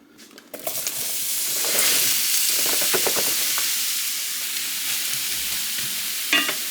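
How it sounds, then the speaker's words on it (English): Coconut oil sizzles in a frying pan during vegan pantry cooking, a steady bright crackling hiss starting after a brief clatter and holding close and loud, with a few stirring scrapes near the end. "Just gonna add some coconut oil to this pan."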